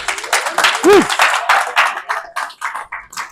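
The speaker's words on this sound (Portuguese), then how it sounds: "Você pode aplaudir o nome de Jesus?" Audience clapping at a theology seminar on Christology, loud close claps with a brief vocal cheer, tapering into scattered claps by the end.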